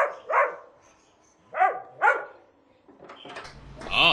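A dog barks in a Québécois comedy scene, a few separate close barks in two quick pairs with gaps between them, followed by a burst of more rapid yelping and noise at the end.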